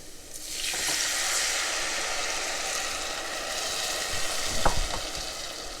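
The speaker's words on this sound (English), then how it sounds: "We are introducing liquid to oil." Tomato juice and liquid hit hot oil in a pan with a sudden loud sizzle that settles into a steady, dense hiss. A few clinks of a spoon or utensil stirring come through near the end, and nobody speaks.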